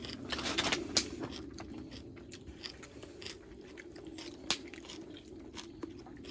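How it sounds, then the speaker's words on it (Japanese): Someone chews nozawana pickled greens at a campsite, close crisp crunching bites with a few sharper snaps scattered through a quiet outdoor background, no talking. "久々食べたら野沢菜も美味しい。"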